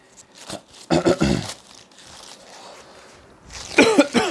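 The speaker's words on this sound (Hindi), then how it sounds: "बीच में खांसी आ रही है बार बार" Several short, harsh coughs in quick clusters, with a quiet stretch between them and another rough burst near the end, close up.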